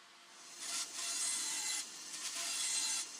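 A close band saw rough-cuts through 18 mm wood stock in two sustained bursts, a harsh high rasp with a short pause between passes.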